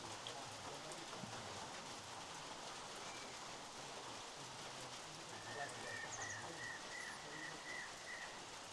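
Steady rain falls outside a resort room in Ravangla, South Sikkim, a soft constant hiss throughout, with faint birdsong whistling through it in the latter half.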